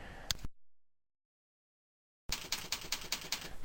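Keys tapped on a computer keyboard in quick clicks, a short burst of typing before a stretch of silence and then a steady run of rapid keystrokes up close.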